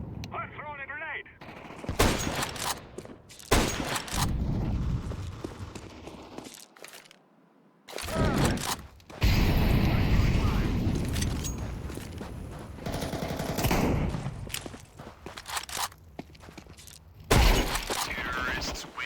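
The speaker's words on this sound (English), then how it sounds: "I'm throwing a grenade." Grenade bursts and gunfire crack through a Counter-Strike 2 match, loud sharp blasts and rattling shots separated by brief quiet gaps, with voice callouts playing over the action.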